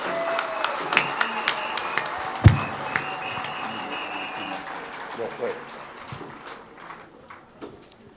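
Women and young people at a weekend gathering in Thiès, Senegal, applaud visiting priests. The clapping is moderate and fairly steady with a few sharper claps, and it fades gradually toward the end.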